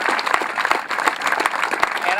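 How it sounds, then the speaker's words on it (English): A crowd applauds for Navy sailors and corpsmen and their supporters at a ride event, with steady dense clapping and a few louder claps, while voices carry over it. "give them a round of applause"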